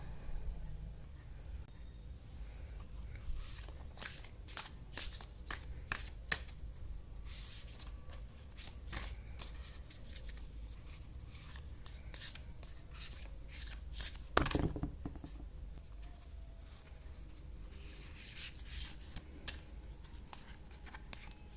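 Tarot cards are shuffled and handled by hand, making soft, irregular riffles, slides and taps in repeated bursts, close and quiet with no voice.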